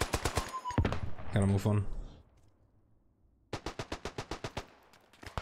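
Loud, rapid bursts of a heavy machine gun firing in the WWI shooter Beyond the Wire, German Empire side, with a player briefly speaking between volleys and a second fast, evenly spaced burst after a quiet gap.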